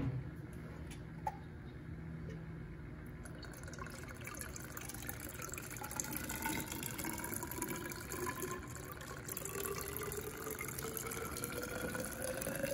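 Peach brandy moonshine trickles from a still into a half-gallon jar, a soft continuous liquid stream with a slowly rising fill tone, quiet and steady with no talking.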